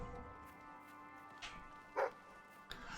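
A dog in the video game Fable 3 gives a few short, faint barks spaced apart over quiet background music.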